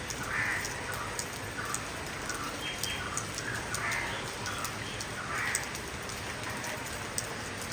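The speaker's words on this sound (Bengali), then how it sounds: "সারাদিনই টিপ টিপ করে বৃষ্টি হবে। কাকগুলো দেখেন বৃষ্টিতে ভিজতেছে কি সুন্দর করে।" Light, steady rain patters outdoors while crows caw intermittently a short way off, their calls rising over the even hiss of drizzle with no talking.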